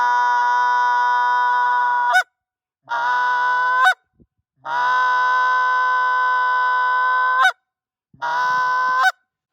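Canada goose call blown as a sustained hum exercise, four long steady droning honks with short pauses between them, loud and close with no other sounds.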